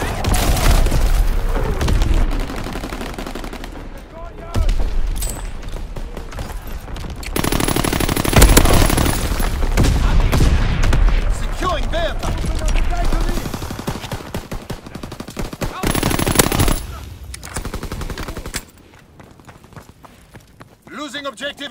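A video-game artillery battery fires repeatedly, with heavy booms and rapid bursts of gunfire in loud, uneven volleys that mix with game voice lines and drop away into quieter gaps toward the end.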